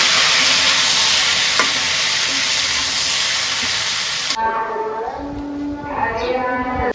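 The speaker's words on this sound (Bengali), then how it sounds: "ঢেঁড়স ভাজা হয়ে গেছে, আমি ঢেঁড়সগুলো আগে উঠেই নেই।" Okra frying in a pan in a village kitchen makes a loud, dense sizzling hiss for about four seconds, then the sound drops off sharply to a quieter background with some tonal sounds.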